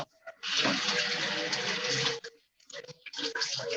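Vegetables are rinsed under a running kitchen tap, with water splashing steadily for about two seconds, cutting off briefly, then gushing again in shorter bursts, near and fairly loud, with no talking.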